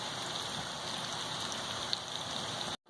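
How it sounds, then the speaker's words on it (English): Heavy rain pours steadily outside, a dense continuous hiss of drops striking surfaces, even and unbroken until it cuts off abruptly at the end. "it's raining outside like cats and dogs"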